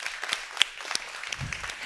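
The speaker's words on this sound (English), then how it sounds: "Can we give them a big round of applause?" An audience at a transboundary water cooperation panel gives a brief, fairly quiet round of clapping for the panelists, a sparse patter of individual claps rather than a full roar.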